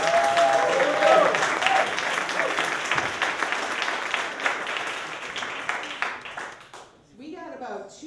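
An audience at a local film screening event applauds loudly and steadily for about seven seconds, the clapping dense and close before thinning out and fading near the end.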